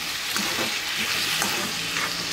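Potatoes frying in a pan for an aloo palak dish, a soft, steady sizzle with light stirring scrapes rising and falling throughout, no talking.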